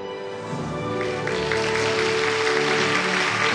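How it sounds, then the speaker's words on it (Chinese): A studio audience at a Chinese television talk show breaks into sustained clapping that grows fuller, with music playing underneath. "我们掌声有请他们。"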